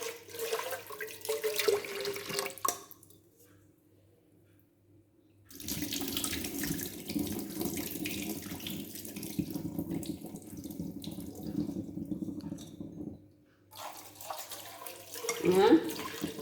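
Tap water runs into a sink as shirataki rice is rinsed, in two long, steady splashing stretches separated by a quiet pause, with someone speaking over the running water.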